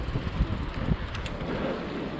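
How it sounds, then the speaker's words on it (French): Gusty wind blowing outdoors on a street, buffeting the microphone with low rumbling bursts and a steady roaring wash, no voices. "Il y a du vent, il y a du vent, il y a du vent."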